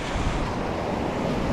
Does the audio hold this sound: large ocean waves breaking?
yes